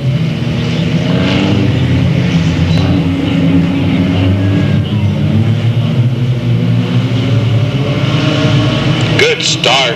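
Race cars accelerating off turn 4 at Delta Speedway make a loud, continuous engine roar with layered droning harmonics for the whole stretch, while a voice talks over the din.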